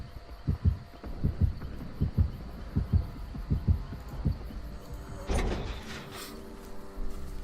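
Heartbeat in the Dead by Daylight game, a steady run of paired low thumps repeating at an even pace for about five seconds, then a louder sliding whoosh of game noise takes over; no speech.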